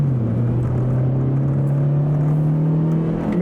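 Vauxhall Zafira of the M25 generation, 120 brake horsepower, accelerating hard from inside the cabin: a steady, loud engine drone rising slightly in pitch throughout, with no talk over it.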